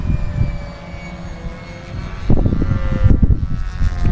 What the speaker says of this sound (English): This Cobra is a nice plane.